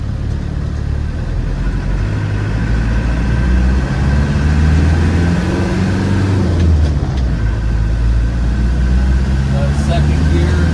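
Inside a 1990 Land Rover Defender 110 County with the 200Tdi diesel, a steady low engine rumble and road noise fill the cabin, with someone talking over the drive.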